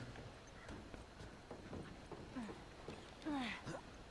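Horse hooves clip-clopping in The Last of Us, a steady moderate walking rhythm heard faintly under ambient game sounds, with a few brief tonal game effects near the end.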